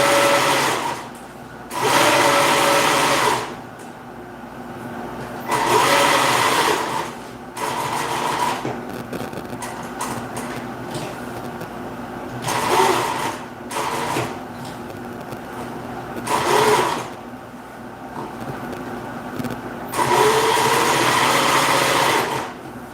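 A sewing machine top-stitches around the top of a piece in several loud close bursts of rapid needle whirring, separated by short quieter pauses.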